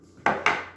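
Two quick scraping knocks of a utensil against a bowl while garlic is mixed into scone dough, close and brief.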